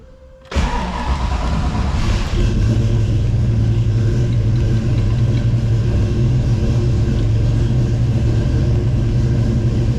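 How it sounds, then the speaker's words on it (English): A car on a Dynojet chassis dyno cranks briefly, then its engine fires and settles into a loud, steady rumbling idle. It carries on alone without talk to the end. "Startup was pretty darn good. Pretty moderate crank time, and it didn't really flare."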